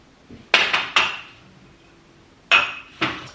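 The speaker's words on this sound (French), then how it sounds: "Pour l'instant je vais y mettre les verres" Drinking glasses are set down into a glass-fronted cupboard in a Paris apartment, making a few crisp, close clinks and knocks in two brief clusters separated by a quiet pause.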